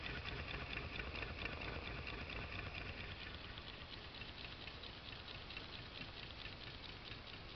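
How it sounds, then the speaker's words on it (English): A water-cooled Stirling engine from Anderson Machine Works runs at a slow speed, giving a steady, faint, even patter of soft mechanical ticking that holds constant throughout with no talk. "Really is a nice running engine, and it runs at a nice slow speed."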